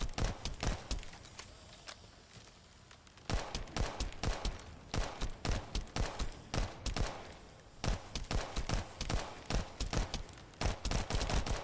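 Rapid bursts of Albion gun fire in The First Descendant, loud sharp shots in dense rhythmic volleys that run almost without pause, with one brief lull near the start.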